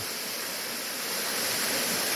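Forest stream pouring down over rocks near a waterfall on a rocky woodland trail, heard as a steady, dense, loud rushing wash that holds unbroken for two seconds with no voices.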